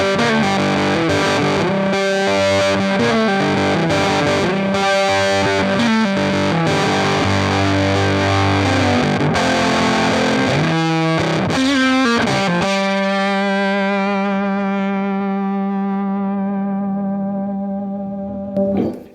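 Electric guitar played through a Silktone parallel amp with raspy, Range Master-like overdrive: loud distorted chords and notes, then a final chord held with long sustain that slowly fades.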